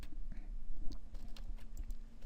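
Several computer keyboard keys pressed during image editing, including repeated Control D presses, quiet close clicks and taps scattered across a couple of seconds over a steady low hum.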